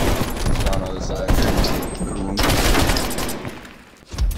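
Automatic weapon fire in Call of Duty Cold War on the Nuketown map during team deathmatch, sustained close bursts with brief pauses and a dip near the end, dense and loud.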